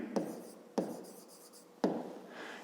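A pen writes on paper in three short, distinct scratching strokes, close and quiet, with faint lighter scribbling between them.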